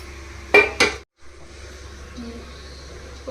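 A metal lid goes onto a kadai pot of biryani with two sharp clanks close together, followed by a quiet pause and low kitchen background noise.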